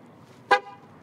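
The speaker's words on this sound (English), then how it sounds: "You're gonna blink your lights and honk your horn." A single short car horn toot triggered from a key fob's theft deterrent alarm system, sharp and clear, sounding once against a quiet background in a parking lot.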